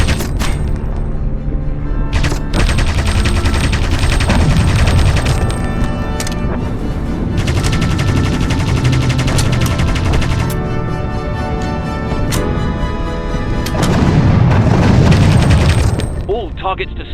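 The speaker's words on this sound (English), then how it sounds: "these anti-aircraft guns will blow us out of the sky" Heavy anti-aircraft gunfire in the video game Aviators, a dense, loud barrage of booming bursts and rattling shots that runs continuously, swelling louder toward the end.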